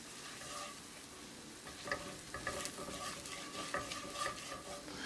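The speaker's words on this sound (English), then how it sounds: "add flour, maida, this is all purpose flour, and we want to cook on medium gas, so keep it moving and keep cooking" All-purpose flour (maida) stirred and cooked in melted butter over medium heat, a soft steady sizzle with scraping strokes and occasional light clinks of the utensil against the pan, close and continuous without speech.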